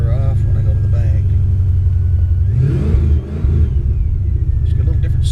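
A 1995 Ford Mustang GT V8 with a full exhaust rumbles steadily and then revs up with a deep, throaty exhaust note while someone talks over it.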